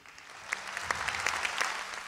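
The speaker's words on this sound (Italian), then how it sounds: "farei un applauso a tutti coloro che ci hanno aiutato" An audience at a solidarity event with a band applauds, a moderate spread of clapping that builds and holds with a few louder individual claps standing out.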